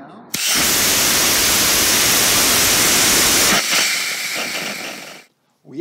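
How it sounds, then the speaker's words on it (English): A magnetohydrodynamic generator test-fires with ablative graphene electrodes, bursting into a loud, steady roaring hiss for about three seconds, then dropping to a softer rushing hiss that fades out. "And this is the test firing. Firing now."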